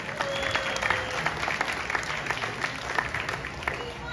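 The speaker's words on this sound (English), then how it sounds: "let's give a round of applause for making his professional debut" A press conference crowd applauds a boxer announced for his professional debut, a steady round of moderate clapping with scattered voices and cheers mixed in, continuing for several seconds.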